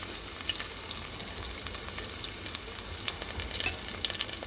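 Garlic fries in extra virgin olive oil in a pan, a dense, steady crackling sizzle with scattered sharper pops, close and constant, with no voices.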